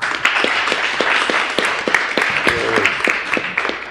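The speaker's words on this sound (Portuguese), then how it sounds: "Vamos aplaudi-lo." Audience applause for a guest from SOS Racismo at a public gathering, a steady wash of clapping with sharp individual claps standing out, fairly close and continuous, with a faint voice briefly underneath.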